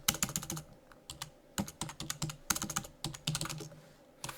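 Fingers type a numbered list into LibreOffice Writer on a computer keyboard, producing close, crisp clusters of key clicks in quick irregular bursts with short pauses between them and no voices.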